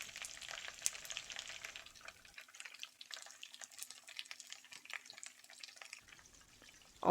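Shallots, garlic and capers fry in a pan with a steady, close crackling sizzle, dense with sharp little pops that thin out briefly midway before the spitting picks up again.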